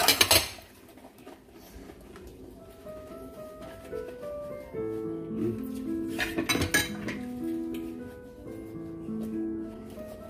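Dishes being washed by hand, with a child's spoons, rice bowls and plates clinking and clattering against each other in a sink. A loud knock comes first, then repeated close ringing clinks sound over running water, with no talking.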